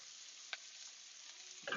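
Onions and Brussels sprouts sautéing in a pan, giving a soft, continuous sizzle with a single light tap and a brief clatter of stirring at the end, close and fairly quiet with no talk.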